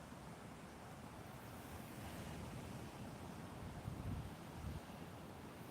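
Atlantic Ocean surf breaking at the Grand Strand, a steady broad wash of waves with wind buffeting the microphone, swelling slightly louder near the end, with no voices.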